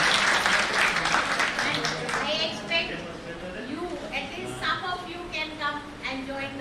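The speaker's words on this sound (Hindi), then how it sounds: "इसी शब्दों के साथ एक बार तालियों से मैम को हम" Audience applause for a speaker at a national seminar on startup ventures: an indoor crowd claps loudly, strongest at the start, while a voice talks over it as the clapping continues more thinly.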